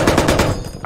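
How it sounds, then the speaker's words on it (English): Rapid automatic gunfire aimed at the ground in the military shooter game Squad, a loud, close burst of evenly spaced shots filling under a second. "I guess I'll shoot the ground."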